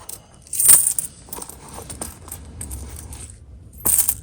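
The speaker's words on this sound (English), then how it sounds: "right here with the zipper pocket, you can put change in there." Loose coins dropped into a zipper pocket of a handmade sewn wallet, with two short bright metallic jingles about three seconds apart and soft handling rustle between, close up.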